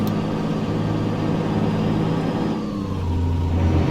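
A Peterbilt 359 truck with a Cummins engine in American Truck Simulator runs with a steady droning engine tone, rising and shifting pitch near the end as it revs, loud and continuous with no voices.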